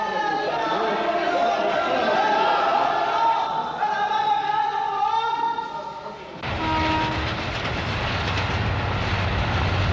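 A passenger train travels on rails toward Cairo, Egypt, with a steady rumble and clatter of wheels and carriages and a tonal, horn-like drone in the first half, while someone talks over it.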